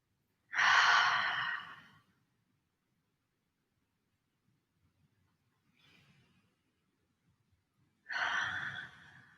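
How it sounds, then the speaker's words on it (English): Slow, deep breaths during a yoga session, two long audible exhales several seconds apart with a faint breath in between, close and quiet in an otherwise silent room. "keep taking full deep breaths"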